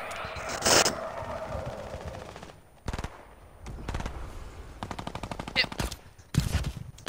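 Rapid video-game gunfire rattles in several bursts, with a few single loud shots, through the clip while players talk over it.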